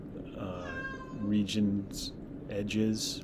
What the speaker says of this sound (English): Apologize for my cat.